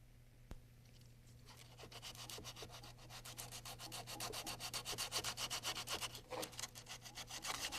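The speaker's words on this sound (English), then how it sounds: "lightly sand any glue or uneven protrusions from the pan." Sandpaper rubs back and forth in quick, even strokes on the oil bath pan opening of a RotorWay helicopter, faint at first, then louder and rhythmic as the sanding speeds up, close by with no voices.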